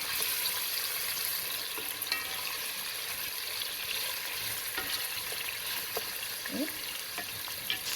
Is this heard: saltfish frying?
yes